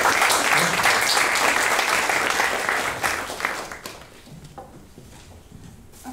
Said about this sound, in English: Round of applause for the speakers.